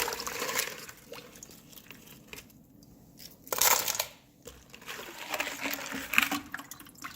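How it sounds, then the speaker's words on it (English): Chunks of ice from partly frozen maple sap lifted out and dropped into a separate pot, with crunching, scraping clatter and watery trickling in irregular bursts, one louder clunk midway. "I'm going to take the ice out and put it in a separate pot and let the ice thaw."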